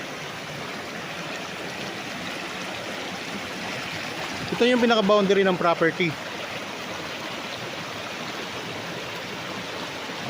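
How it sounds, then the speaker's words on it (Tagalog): A river flows beside a farm lot in Liliw, Laguna, its steady broadband rush of water continuous throughout, with someone speaking briefly over it midway. "Ito na yung ilog mga kaprops oh."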